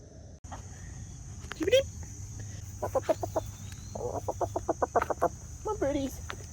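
Several chickens cluck in short rhythmic bursts, near and fairly loud, over a steady low background hum, with one higher call rising in between.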